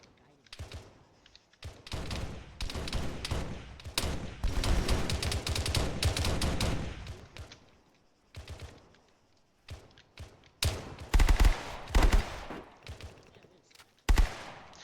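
Bursts of SMG gunfire in Arma 3 crackle in dense volleys over several seconds, with later short sharp clusters of shots, mixed with in-game voices and movement sounds.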